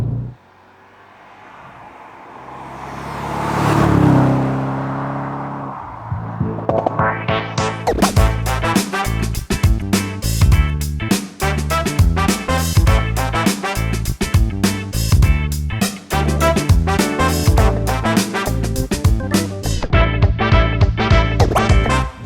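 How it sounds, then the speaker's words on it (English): A manual C5-generation Audi RS6 is driven: after a brief rising whoosh, a loud, close engine note builds with dense, pulsing revs and gear-change dips, running steadily without voices. "not just the C5 generation Audi RS6, but the RS6 as many of us wish it had always been"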